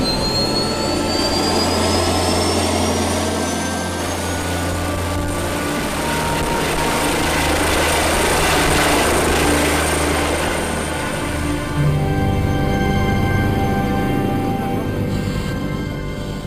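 A helicopter flies over the Port of Bordeaux, giving a loud, continuous rotor and turbine roar with a whining engine tone that holds steady throughout. No voices are heard.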